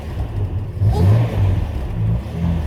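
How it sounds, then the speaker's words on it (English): A Ford Capri V6 with its exhaust wrapped in bandage revs in a low, rumbling burble, swelling louder midway and then settling into a steady idle-like drone, with no talk over it. "You can actually hear the V6 properly now."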